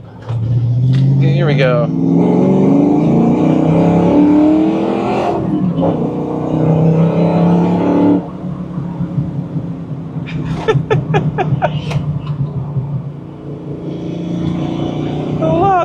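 A sports car engine roars and revs as it drives, pitch climbing through gears then dropping on shifts, loud and close, with a voice speaking over it.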